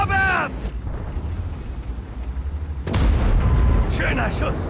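A heavy tank cannon shot in the video game World of Tanks booms out, followed by a rolling rumble and echoing battle noise, after a brief tonal whine at the start.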